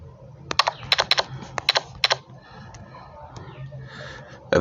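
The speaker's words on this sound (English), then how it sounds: "then just type for sale" Quick bursts of keystrokes on a computer keyboard while laying out a real estate graphic, clicking in clusters up close and then trailing off into quiet room noise.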